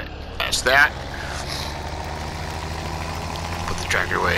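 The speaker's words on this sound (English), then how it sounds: "Put the tractor away." Tractor engine in the video game Farming Simulator 17 running as a steady low idle rumble throughout, with a few brief louder bursts of other game sounds at the start and near the end.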